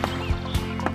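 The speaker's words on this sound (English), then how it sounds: "Clippity-clop, clippity-clop," Billy goat hooves clip-clopping across a bridge, given as a steady series of hollow hoof knocks, fairly loud, with a whinny-like tone over a busy background in a children's story setting.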